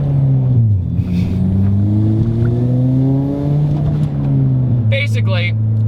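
A turbocharged Ford Fiesta ST accelerates in first gear, engine droning and rising through the revs with a brief gear change, heard from inside the cabin, loud and close.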